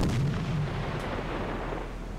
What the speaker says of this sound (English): That was a splash and an explosion.